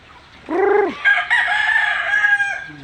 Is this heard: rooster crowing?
yes